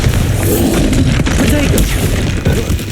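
Bombarda spell explosion in Hogwarts Legacy: heavy booming crash amid dense, loud battle noise, with a sharp impact near the middle and voices in the mix.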